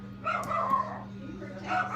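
Several household dogs yip and bark in short bursts close by while people talk over them in a family home.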